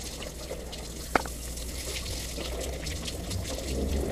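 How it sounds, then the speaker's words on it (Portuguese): Water runs steadily from a gas station tap into small plastic jugs, a continuous pouring hiss with one brief knock partway through. "vou encher meus galãozinhos de água"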